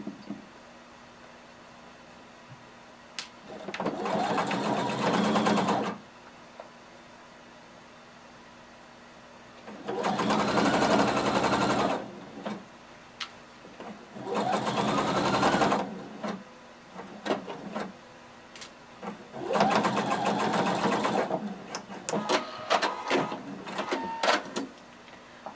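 Sewing machine stitching a jumpsuit bodice down through all its fabric layers, running in four separate bursts of a few seconds each with short quiet pauses between them.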